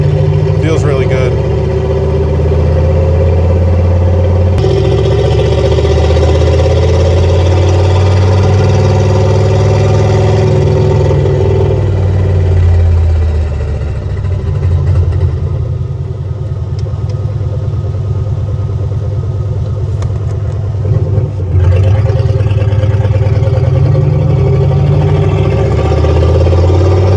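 A car engine revs loudly and continuously, its pitch climbing and dropping as gears are shifted up and down, with a brief dip in the middle and a rise again near the end.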